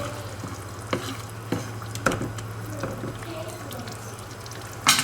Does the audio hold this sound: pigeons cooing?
no